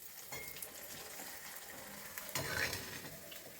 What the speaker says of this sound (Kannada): ಈಗ ನಿಮಗೆ ಈ ಸಂಡಿಗೆ ಕರಿತಾ ಇದ್ದೀನಿ ಎಣ್ಣೆಯಲ್ಲಿ.